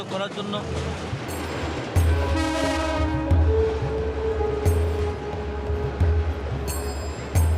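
An old, drafty colonial-era passenger train in Bangladesh rumbles and clatters along under a steadily talking voice, with rhythmic wheel thumps and a brief horn-like tone midway.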